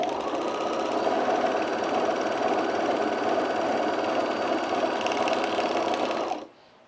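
A sewing machine stitches the side and shoulder seams of a sunblock top, running in one continuous fast, even whir with rapid needle chatter for about six seconds before stopping abruptly, close and loud.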